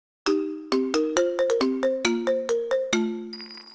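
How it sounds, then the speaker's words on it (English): An iPhone marimba ringtone plays a bright, plucky melody of about a dozen short, decaying wooden-bar notes in a lively rhythm. It is close and clear, and no one speaks over it. "marimba,"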